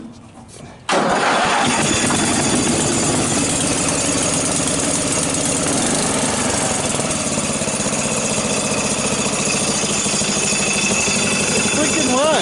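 A Murray rear-engine riding lawn tractor cranks and roars to life after a brief quiet moment, then settles into a loud, steady rumbling idle nearby.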